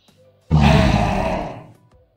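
A person in the yoga lion pose, tongue fully out, imitates a lion's roar with one loud, breathy, growling exhalation lasting just over a second, alone against near silence.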